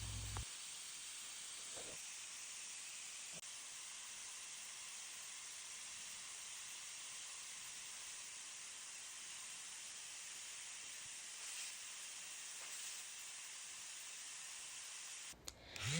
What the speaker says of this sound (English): I could watch this all day long, just spray painting.